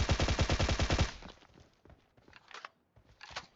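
Automatic rifle fire in the mobile battle-royale game PUBG Mobile: a rapid, loud burst of about a dozen shots, then scattered fainter shots and clatter trailing off.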